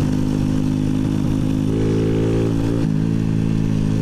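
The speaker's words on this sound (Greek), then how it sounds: "ας μιλήσουμε για αυτό εδώ το μοτέρ που έχει το μηχανάκι αυτό" The 50cc fuel-injected engine of a Daytona DY50 EFI moped idles steadily nearby with a buzzing, even tone. Its pitch lifts briefly in a small rev before settling back, and no one speaks.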